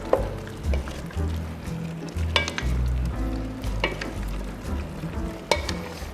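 Caldereta stew with grated processed cheese being stirred in a pot: soft bubbling and a spoon scraping and knocking at irregular moments, all fairly quiet with no talking.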